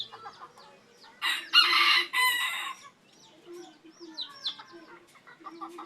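A large white rooster crows nearby in a burst lasting over a second, then clucks and calls on and off from other fowl, close and clear with no talking.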